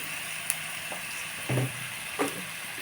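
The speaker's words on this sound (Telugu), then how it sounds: "కొంచెం ఉల్లిపాయ మగ్గుతుంది" Onions frying in a pan for an egg, prawn and ridge gourd curry, a faint steady sizzle with a few brief stirring scrapes and clinks, no talking.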